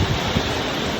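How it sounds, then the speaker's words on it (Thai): A tropical depression storm brings wind and rain in a dense, continuous roar of gusting wind and heavy rainfall, loud and close and filling the whole moment without a break. "ฝนมาลมกับมาครับนี่ครับโอ้ย ฟังเสียงเอาละครับ นี่ครับบรรยากาศโอ้ยลมกับมาครับ"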